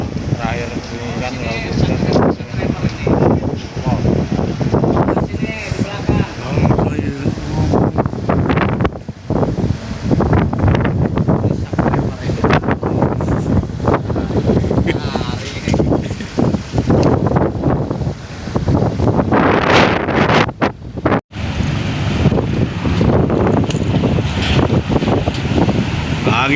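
Strong wind roars at sea aboard a ferry crossing the Sunda Strait, a loud, continuous buffeting with gusts and wave wash, and talk runs underneath throughout.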